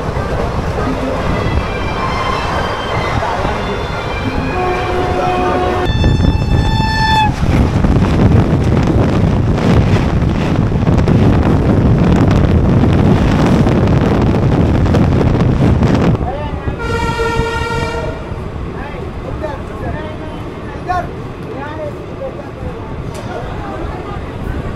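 A slow passenger train heard from on board, with loud continuous rumble and wind buffeting through the middle stretch, and brief tonal squeals or horn-like sounds early and around the sixteen-second mark.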